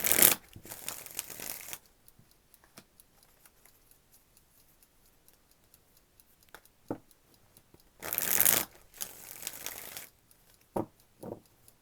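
Two quick bursts of tarot cards being riffle-shuffled, close up, separated by a long quiet stretch with a few soft taps and clicks.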